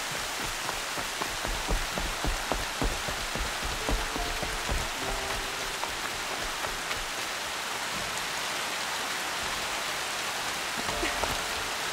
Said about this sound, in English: Oh, that rain.